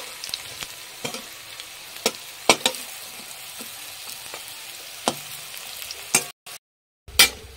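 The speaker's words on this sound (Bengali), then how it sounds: "তোমার হেলাঞ্চো শাকের বড়াগুলো ভাজা হয়ে গেল," Helencha greens fritters sizzle steadily in hot oil, a continuous crackling fry with scattered sharp pops and spatter clicks, close and fairly loud with no voices, briefly cutting out near the end.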